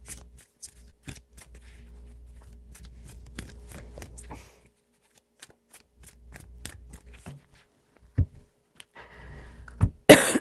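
A deck of tarot cards is shuffled by hand in several quick riffling bursts separated by quiet gaps, close and crisp, ending in a louder flurry of card snaps.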